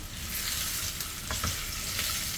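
Steady, crackling sizzle of unpeeled potatoes frying in hot oil, close and continuous, with occasional soft stirring scrapes.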